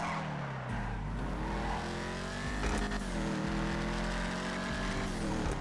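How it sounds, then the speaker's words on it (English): Vapid Firebolt ASP pickup truck in GTA Online, its exhaust roaring loudly and steadily while revving and accelerating, with tires skidding and squealing; no one speaks. "I love the exhaust note on this car."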